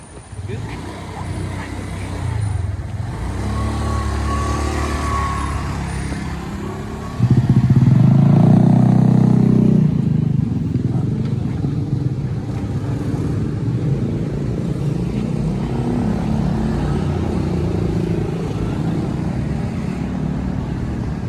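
Scooter and car traffic in Canggu, Bali: a continuous roadside rumble of motorbikes and cars, with one louder vehicle passing close by partway through, under occasional talking.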